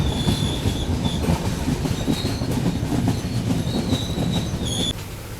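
The Mandovi Express on the Mumbai to Goa route rumbles steadily into a station, wheels clattering on the rails with repeated high squeals of braking throughout, loud and close with no talk.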